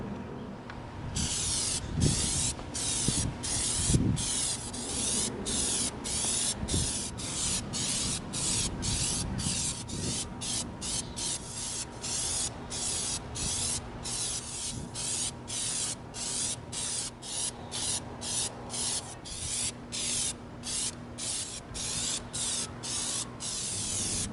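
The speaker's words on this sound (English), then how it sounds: "Don't ever spray Plastidip, even outside, without your ventilator." Steady hiss of an aerosol can spraying Plastidip coating, in long continuous passes broken by short rhythmic pauses, close and fairly loud.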